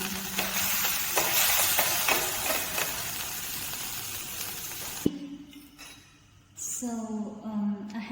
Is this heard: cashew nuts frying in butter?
yes